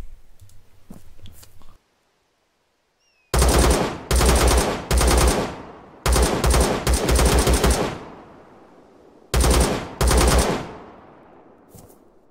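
AK-74U automatic rifle fire in the military video game Arma 3: several loud, close bursts of rapid shots separated by brief pauses, each burst trailing off in a short echo, with no talking.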